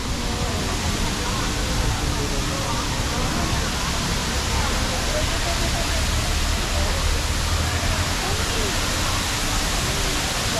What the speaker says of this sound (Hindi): वाटरफॉल, काइंड ऑफ वाटरफॉल बना रखा है।